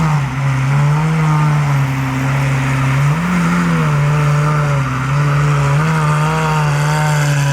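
A Lamborghini SVJ supercar with a very loud aftermarket exhaust idles and blips its throttle at a car show, a strong, close engine drone rising in pitch twice as it revs.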